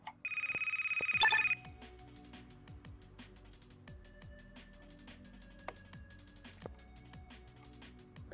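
A phone in the Car Mechanic Simulator game rings in a loud, electronic tone for about a second and a half, then cuts off, leaving faint game background noises and scattered clicks.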